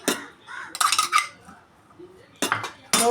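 A spoon stirring rice and dal with spinach in a metal pot, giving a few clinking, scraping bursts separated by quiet gaps, close and fairly loud.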